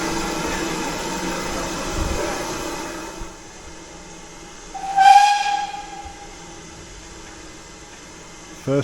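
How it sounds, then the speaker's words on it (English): Steam locomotive on the Great Central Railway hissing broadly, then a short, loud whistle blast midway, with the hiss continuing at a lower level afterward. "First train of the day for me being a steam train"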